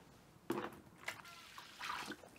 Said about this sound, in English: So we're going to go ahead and pour this vinegar in.